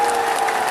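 A crowd applauding at a political rally, a brief, loud burst of dense clapping with a steady tonal hum running underneath.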